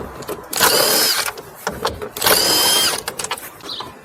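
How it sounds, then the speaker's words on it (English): A power tool spins out two 10mm bolts while an ignition switch is removed from a 2005 Chevy Malibu Classic, sounding as two separate whirring bursts close by, with small clicks between them. "Remove those two 10mm bolts."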